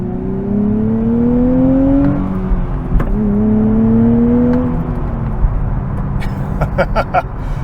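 A 2023 Nissan Z with a manual gearbox and inline-six engine accelerates hard from inside the cabin, its engine note rising in two loud sweeps with a gear change between them, then settling into a lower hum.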